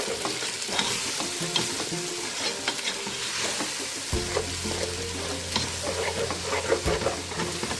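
Eggs frying and being stirred in a pan for Jamaican jerk sausage fried rice, a loud continuous sizzle with busy scraping and stirring throughout, no voices.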